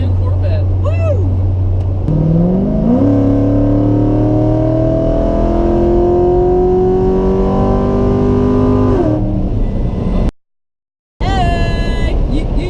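Chevrolet Corvette accelerating: a loud engine note climbing steadily in pitch through a long pull, with a gear change early on, heard from inside the car, then a brief dropout and a fresh rising rev.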